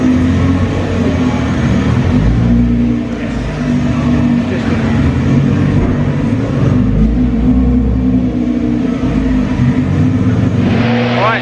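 A Nissan GT-R R35 with an Armytrix valved exhaust runs on a dyno, its engine droning loudly and steadily for the whole stretch, with a brief dip in the middle.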